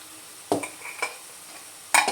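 Ginger garlic paste frying in a pan as a spoon scrapes and stirs it, with three short separate strokes over a soft, steady sizzle, close and fairly loud.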